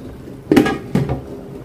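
A lid set down on a cooking pot of tehari, two quick clanks of metal about half a second apart, close and fairly loud in an otherwise quiet kitchen.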